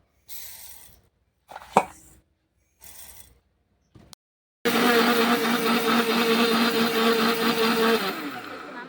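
An electric grinder blitzes mustard seeds into powder in a small jar for homemade mustard oil, first in short spaced pulses with clinks of the jar, then a long, loud continuous whirring run that winds down at the end.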